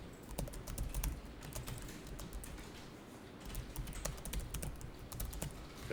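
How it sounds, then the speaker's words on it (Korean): Computer keyboard typing during accounting data entry, a steady run of quick key clicks with a few sharper strokes like the Enter key, fairly close and alone with no talk. "이렇게 타자하시고 엔터 꼭 쳐줘야 돼요."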